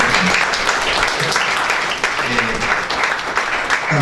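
An audience applauds during an agricultural lecture, a continuous sustained round of clapping with a voice speaking over it at points.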